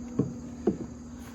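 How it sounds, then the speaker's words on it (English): Newer 2024 Carrier furnace fan motor giving off a steady low electrical hum, broken by two soft knocks near the start. "You can hear that fan motor buzzing from a mile away."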